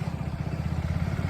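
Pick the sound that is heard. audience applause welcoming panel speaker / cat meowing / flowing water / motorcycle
motorcycle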